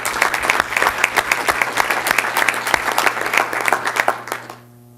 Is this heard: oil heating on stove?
no